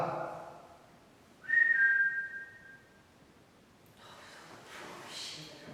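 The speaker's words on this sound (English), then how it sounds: "If I whistle, could you whistle back?" A single short, high whistle from a person, faint and close, during a night investigation in an old ladies' hospital, followed by quiet breathing and a soft breathy noise.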